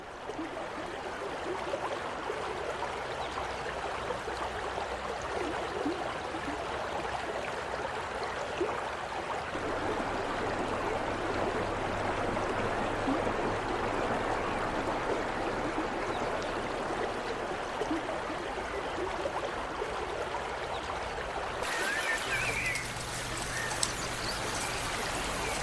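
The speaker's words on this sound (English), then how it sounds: "The crystal clear water of woodland streams attracts not only fire salamanders" A clear woodland stream flowing steadily, a soft continuous babble and trickle of water nearby, even and unbroken with no voices.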